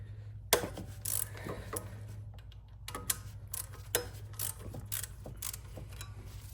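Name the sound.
ratchet wrench loosening bolts on Toyota engine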